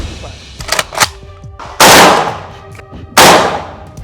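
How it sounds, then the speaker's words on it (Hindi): An AK-203 rifle loaded with 7.62 mm cartridges fires at a shooting range. Two loud, sharp blasts ring out close by, with softer clicks and handling noises before them. "खुद AK-203 से फायरिंग कर दुनिया के सबसे आधुनिक राइफल की ताकत आजमाई"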